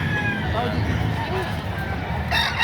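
Roosters and chickens at a poultry market in Padre Garcia, Batangas, crow and cluck faintly in the background, one call rising near the end, while people talk throughout.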